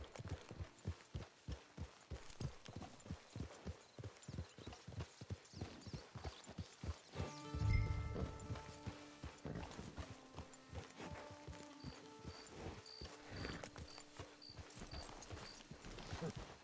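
Horse hooves clip-clop in a steady, even rhythm while riding in the video game Red Dead Online. The hoofbeats are close and continuous, with game ambience and tones layered in partway through.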